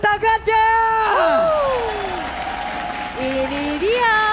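Esports arena crowd at an EVOS versus RBL match applauding and cheering under a caster's excited voice, steady clapping and crowd noise running beneath tonal speech sweeps throughout.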